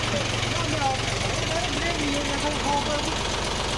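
A tractor engine runs close by in a steady, loud low rumble with a knocking throb, while a voice is heard over it.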